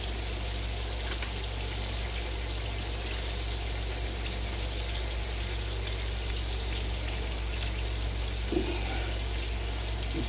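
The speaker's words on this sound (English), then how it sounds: "Put 2 cups of water in this pot." Water streams steadily into a cooking pot on an electric range in a home kitchen, a continuous close pour over a constant low hum with no talking.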